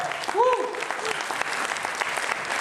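Congregation applause at a church session, a thick, continuous patter of clapping filling the space, with a brief tonal vocal cry rising over it near the start.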